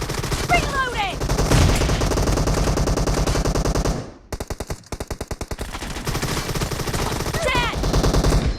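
Rapid automatic gunfire from Bizon and Groza guns in the mobile game BGMI team deathmatch, loud sustained bursts with a brief gap and reload-like clicks midway, then more firing; in-game voice callouts sound briefly.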